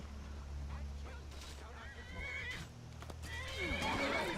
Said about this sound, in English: Oh yeah, the hunter has a horse. They're attacking the horse.